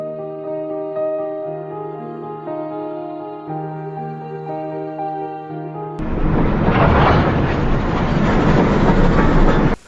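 A passenger train travels along the rails, heard from inside the carriage as a steady rumbling roar that starts abruptly after a stretch of soft music.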